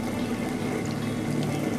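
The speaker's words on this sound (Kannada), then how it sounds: "ನೀರು ನಾವು ನೋಡ್ಕೊಂಡು ಹಾಕಬೇಕು" Water is poured steadily into patrode masala for grinding, a close, continuous trickling splash that lasts the whole short stretch.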